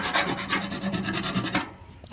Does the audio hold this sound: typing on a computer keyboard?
no